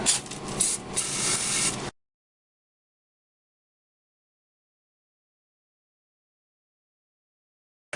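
A brief, harsh hiss of brake parts cleaner spray on a 1996 Jeep Cherokee XJ front differential lasts about two seconds, broad and close, then cuts to silence.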